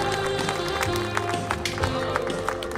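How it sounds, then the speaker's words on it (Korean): An audience applauds at a civic song festival, with scattered clapping under festive background music and a busy hall ambience. "박수 부탁드립니다"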